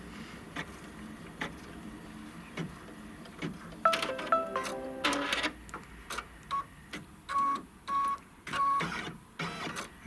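An embroidery machine stitches a seam line through vinyl, starting with sparse ticks, then running in rhythmic mechanical bursts with a few short electronic beeps, close and moderately loud.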